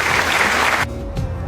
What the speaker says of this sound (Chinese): 来，兄弟们，鼓掌。